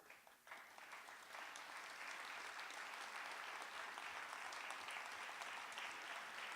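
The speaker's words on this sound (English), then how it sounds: "Yeah, thank you for your applause." An audience at a public address bursts into applause, building quickly and then holding as a steady, moderately distant wash of many hands clapping.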